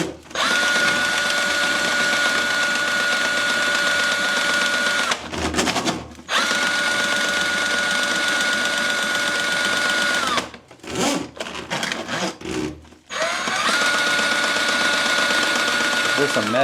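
A motorized drain snake spins inside a clogged sink, giving a steady, loud whirring drone in three long runs broken by two short pauses.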